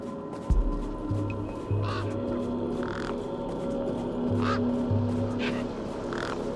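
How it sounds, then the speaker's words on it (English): Desert birds cawing in the video game Beyond Steel, several harsh caws spaced a second or so apart over a steady ambient hum with low game tones. "These were tough desert birds."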